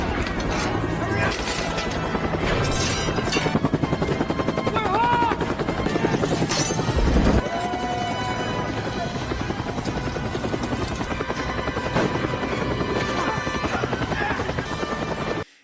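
Military helicopter flying during a prison escape action scene, its steady rotor thrum running loud and continuous beneath a dense mix of mechanical clatter, gunfire-like impacts and a brief sharp crash about midway.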